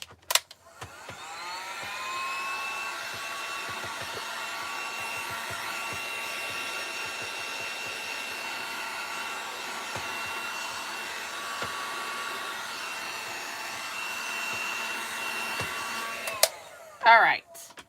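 A hair dryer blows steadily for about fifteen seconds, drying a Dollar Tree bunny sign made as an Easter craft; the airflow is loud and even, then cuts off with a few small clicks at the end.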